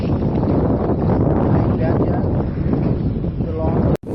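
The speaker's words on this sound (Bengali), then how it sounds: "অনেক ভালো বাতাস" Strong wind roars across the Padma riverbank beneath the Padma bridge, buffeting the microphone in a loud, continuous rush that cuts off briefly near the end, with faint voices under it.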